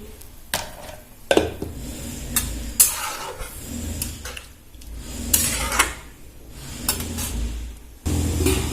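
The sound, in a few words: stirring green papaya chutney with turmeric in a pan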